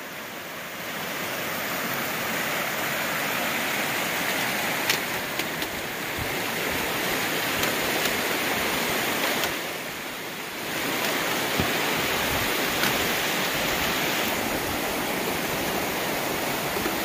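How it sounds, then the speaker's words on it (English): Loud, continuous roar of a waterfall on the Appalachian Trail rushing down nearby, a dense steady wash that briefly dips before surging back. "Water raging down from the falls."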